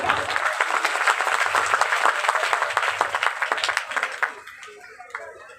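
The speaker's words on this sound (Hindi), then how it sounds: "एक बार जोरदार तालियां" Loud audience applause at a devotional Hindi religious discourse in Gwalior, dense steady clapping for about four seconds before it tapers off and dies away.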